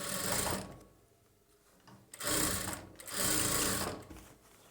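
A sewing machine stitches a boat neck blouse, running over an existing seam in two long steady bursts with a short quieter pause between them, close and fairly loud with no talking.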